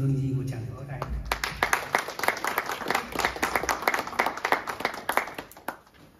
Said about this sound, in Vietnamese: Xin quý anh chị cho một tràng pháo tay.